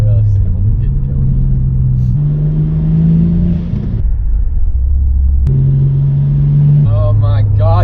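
A Nissan Skyline being driven, its engine droning and shifting pitch through gear changes with a steady low rumble, heard from inside the car under ongoing talk.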